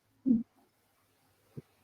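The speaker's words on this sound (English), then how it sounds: "The sound of owls and insects, things bustling through the undergrowth." Owl hoots in a quiet night forest in the horror video game Mystery of Camp Slaughter: one low, rounded hoot, then a softer, shorter call about a second later, with near silence between.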